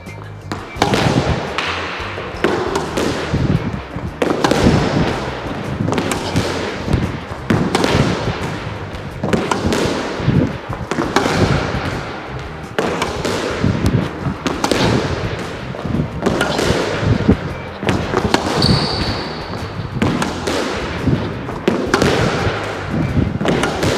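Squash ball struck repeatedly in a half-volley drill on a squash court, with sharp echoing thwacks and bounces landing about every second in a steady rhythm, loud and close for the whole stretch.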